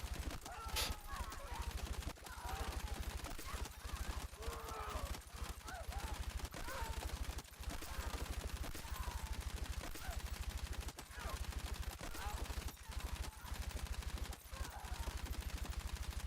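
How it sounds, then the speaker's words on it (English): Submachine gun fire in Battlefield 6, heard as rapid repeated bursts of shots in a steady rhythm throughout, fairly quiet and mixed with game background noise. "Bro, this gun has no recoil? It's an SMG with AR range with no recoil."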